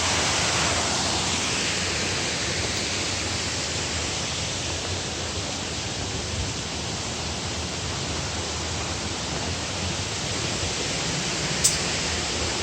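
Cheonjeyeon Falls' second waterfall pours down in Seogwipo, Jeju, a constant broadband rush of falling water that stays even and unbroken from start to finish.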